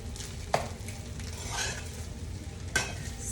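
Shrimp fried rice with onions, carrots, peas and scrambled egg is stirred in a hot pan, a steady sizzle broken by two sharp utensil scrapes against the pan, with no talk.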